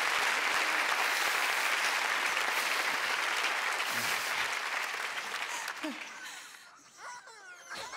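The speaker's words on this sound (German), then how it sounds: "Auch nochmal einen großen Applaus an eure Mitarbeitenden" Loud studio audience applause on a German game show, a thick continuous roar of clapping with some laughter mixed in, fading after about six seconds as a voice begins speaking.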